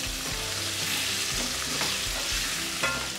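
Pumpkin curry with fennel and salt is stirred in a hot pan: a continuous sizzle with soft, repeated scraping of the spoon and one brief clink near the end.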